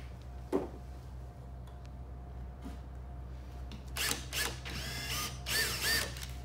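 A power drill running in reverse with a fastener bit, denting wood, whirs in a few short bursts after a sharp tap, fairly close and moderately loud.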